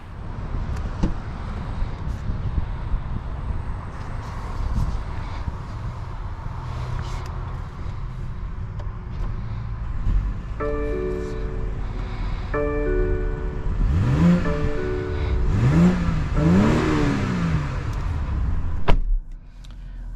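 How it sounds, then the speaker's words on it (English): A 2023 BMW X5 at the start of a drive, with a steady engine and road hum inside the cabin, a door thunk, and a brief series of electronic chime tones, followed by rising engine sweeps as it pulls away. "let's go ahead and take this X5 on a POV test drive and see how it drives."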